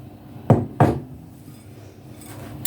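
A spoon knocks against a bowl twice, close and distinct, as oats are mixed into oatmeal cookie dough, then soft faint shuffling follows.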